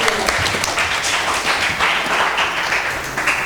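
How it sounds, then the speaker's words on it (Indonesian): School cultural week audience at a high school event claps in a sustained, loud round of applause, dense overlapping hand claps with a few louder individual slaps. "Boleh tepuk tangannya dulu dong"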